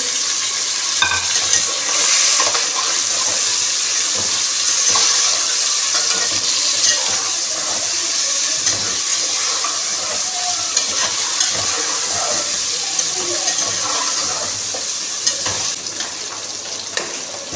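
Tomatoes sizzle and are stirred in a pot for beef pulao, a loud continuous frying hiss with scattered spoon scrapes and bubbling throughout.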